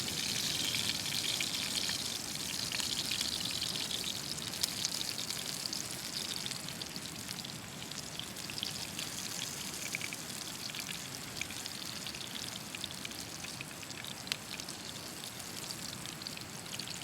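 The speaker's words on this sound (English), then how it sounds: "The roar of those waves." Steady roaring surf from waves along the coast at Dunseverick during an overnight wild camp, a continuous broad wash of noise with no break and no talking.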